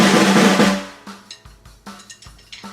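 A cheap 14-inch snare drum rattles through a loud, dense roll that fades out, followed by a handful of separate, crisp strikes spaced irregularly, played close and alone.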